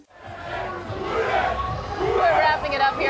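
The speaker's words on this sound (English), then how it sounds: "the crowd seems to be growing by the minute and getting rowdier by the minute, too" A rowdy nighttime street crowd in Miami's South Beach roars and shouts in a dense, swelling mass of voices that grows louder over the few seconds.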